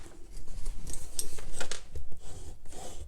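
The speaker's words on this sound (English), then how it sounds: "Move the trimmer." A paper trimmer blade slides across card stock, giving a short series of close scraping, slicing rasps over about three seconds with no talking.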